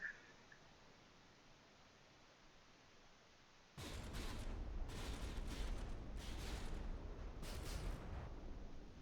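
Warships trading gunfire in the From the Depths naval combat game: after a quiet stretch, a sustained run of heavy cannon blasts and rumbling booms starts partway through and continues to the end, loud and dense.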